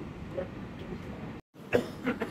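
Airport people-mover train at Hamad International Airport in Doha, a steady rumbling ride that cuts out briefly, then returns with clunks and rattles as the train comes to a stop.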